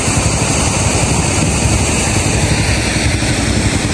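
A running engine drones steadily and loudly beside a waterfall, a continuous broadband rumble with no clear shutoff within the stretch.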